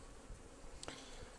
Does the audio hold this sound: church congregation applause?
no